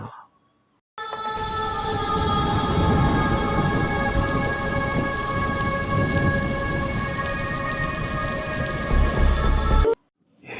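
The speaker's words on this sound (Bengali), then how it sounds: "এমন সময় ঝমঝম করে বৃষ্টি নামে।" Heavy rain used as a cartoon sound effect in a horror cartoon: a loud, constant downpour roar with thunder rumbling underneath and faint sustained tones, starting abruptly after a second of silence and cutting off sharply.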